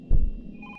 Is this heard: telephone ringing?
yes